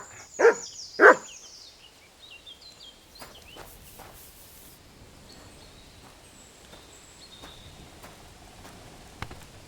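A dog in the medieval game Kingdom Come: Deliverance II gives two loud, close barks at the start, followed by quiet footsteps and faint ambient game sounds.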